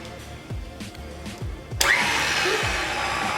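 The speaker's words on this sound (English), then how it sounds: "Lock the mixer. And you put it on low," A stand mixer kneads homemade pizza dough on low speed, its motor starting abruptly into a steady, loud whir that holds to the end, preceded by a few soft knocks and handling sounds.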